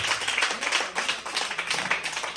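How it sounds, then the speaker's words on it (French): At a graduation ceremony for an evangelical school, an audience claps in a brisk, fairly close burst with uneven rhythmic pulses over a couple of seconds. "Applaudis, applaudis."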